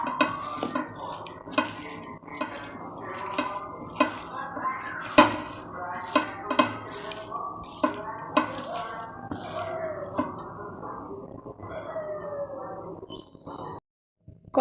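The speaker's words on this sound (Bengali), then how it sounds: "সমস্ত উপকরণগুলোকে একসাথে হাতের সাহায্যে আমি চটকে মেখে নেব।" Wet squelching and slapping as banana stem fritter batter is mixed and mashed by hand in a bowl, with steady repeated squishes and occasional clinks of a dish, close and fairly loud.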